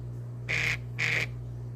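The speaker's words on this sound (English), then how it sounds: "Really sounds like a crow." Two harsh, crow-like caws sound in quick succession, loud and close over a low steady hum.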